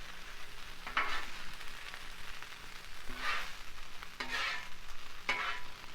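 Fried rice is stirred and flipped on a Blackstone griddle: a soft steady sizzle broken by four scraping spatula strokes, each a brief brushy rasp, with no talking.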